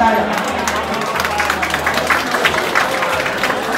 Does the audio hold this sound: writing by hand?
no